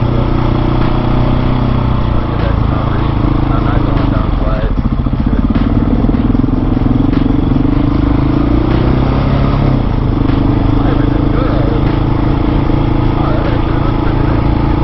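A KTM 701 supermoto motorcycle engine drones steadily and loudly throughout while riding, with a rise and dip in revs around a turn and continuous wind and engine roar.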